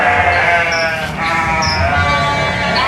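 Lambs or goat kids bleat repeatedly and close by, several wavering cries overlapping over a constant murmur of livestock in the background.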